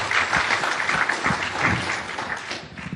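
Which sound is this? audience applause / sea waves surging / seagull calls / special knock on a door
audience applause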